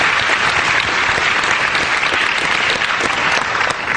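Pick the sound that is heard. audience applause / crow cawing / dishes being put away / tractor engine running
audience applause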